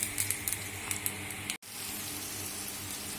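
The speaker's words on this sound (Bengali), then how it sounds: "লঙ্কাগুলোকে একটু ভেজে হালকা করে ভেজে নেব।" Green chillies and nigella seeds frying in hot oil in a pan, giving a steady, close sizzle with faint popping ticks early on and a brief break partway through.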